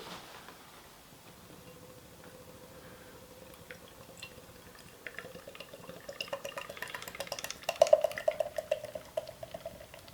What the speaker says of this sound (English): let's see how badly Emmett pours this.